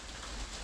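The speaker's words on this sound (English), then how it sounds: "this rain's really bouncing off the greenhouse" Heavy rain drumming on a greenhouse, a dense steady hiss and patter filling the space, loud and continuous.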